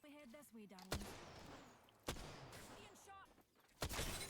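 Triple Take sniper rifle fire in Apex Legends: three loud, sharp shots spaced roughly a second or more apart, each with a brief ringing tail, while someone talks between them.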